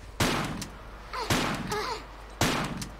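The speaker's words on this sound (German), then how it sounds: "Drei Schuss auf der Schrotflinte und immer noch nicht tot." Three loud, sharp shotgun blasts from the video game Tomb Raider, spaced about a second apart, each followed by brief in-game sounds; no talking.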